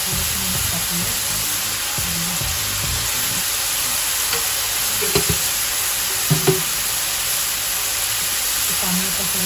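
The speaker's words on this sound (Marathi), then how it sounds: "चांगल्या प्रकारे ढवळून घेऊया परत." Tomatoes with a little salt sizzling in a pan as they cook, a steady close frying hiss with occasional scraping clicks from stirring.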